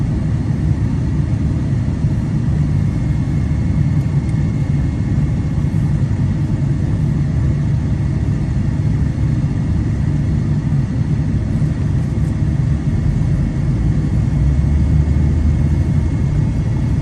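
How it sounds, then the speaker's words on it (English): Road traffic in a Biloxi neighborhood, a steady low rumble of passing cars holding at an even level throughout, close and continuous with no speech. "traffic is definitely not improved"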